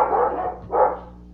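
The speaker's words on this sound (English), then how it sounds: "There goes my dog again." A pet dog named Yogi barks indoors, two quick bursts separated by a short pause, fairly loud and close, with no talking over them.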